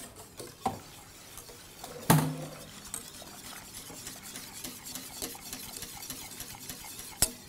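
A utensil stirs a hot caramel glaze mixture in a bowl, a soft continuous swishing with a few sharp clinks against the bowl's side, close and fairly quiet, with no talking.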